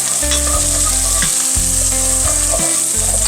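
Onions caramelizing in a pan along with garlic, sizzling loudly and steadily with repeated stirring scrapes in an even rhythm, close up with no talking.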